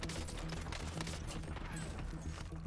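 Gunfire in Warzone Zombie Royale, a rapid dense fusillade of shots with a low rumbling bed, loud and continuous for the whole stretch.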